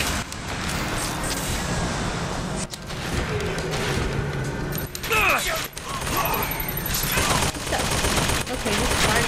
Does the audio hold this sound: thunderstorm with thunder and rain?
no